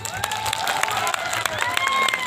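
Audience clapping at a live Sambalpuri comedy show comes through as scattered, uneven claps over a murmuring crowd, with a voice talking through it.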